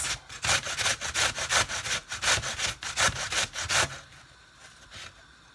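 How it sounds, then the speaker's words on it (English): Vegetables such as swede grated by hand for soup, a close rhythmic rasping stroke repeated about a dozen times before it stops and leaves quiet room tone. "So I will just continue grating the vegetables"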